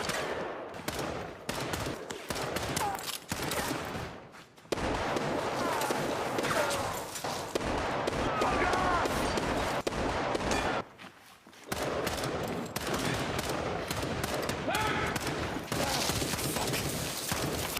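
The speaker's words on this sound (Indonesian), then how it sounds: "Baku tembak terjadi." Heavy gunfire fills a gunfight scene in a sniper action film as a man shoots at agents by a doorway: dense rapid volleys of shots, loud and close, broken by brief lulls before bursting again.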